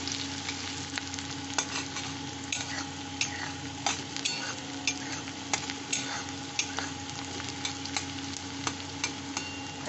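Onions frying in a pan for coriander chicken pulao give a steady close sizzle, broken by sharp ticks and pops as they are stirred at an irregular pace.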